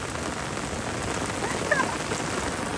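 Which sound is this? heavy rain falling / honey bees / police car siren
heavy rain falling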